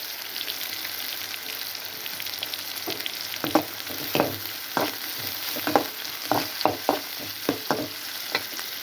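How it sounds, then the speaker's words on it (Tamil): Onions saute in a pan for an egg podi dish, a soft continuous sizzle under a series of sharp scraping stirs from a spoon, close and fairly quiet with no talk. "வெங்காயம் நல்லா வதங்கட்டும்"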